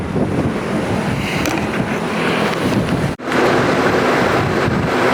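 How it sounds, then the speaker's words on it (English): Strong gusty wind blowing outdoors and buffeting the microphone with a loud, continuous rumbling roar, briefly cutting out for an instant before resuming, with no voices. "This wind's blowing so bad today."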